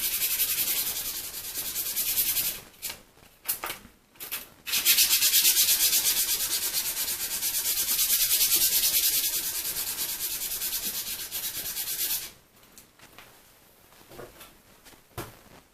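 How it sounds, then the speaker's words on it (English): A steel hexagon piece is polished on oiled waterproof sanding paper, giving a steady, close hissing rasp in long strokes broken by short pauses and a few quick rubs near the end. "I'm polishing it a bit on waterproof sanding paper with a bit of oil."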